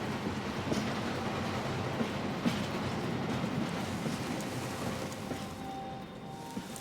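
A train rolls past a station in Mumbai in Hitman: World of Assassination, a steady rumbling clatter of rail cars held at a moderate distance, continuous and even throughout with no voices.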